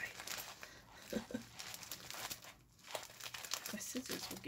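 Crinkling plastic and paper as a taped-up package of craft supplies is opened, with rustling bursts and brief tearing, a voice faintly present underneath.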